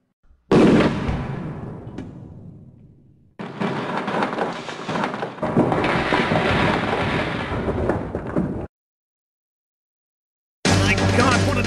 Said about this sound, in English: My God, what an explosion!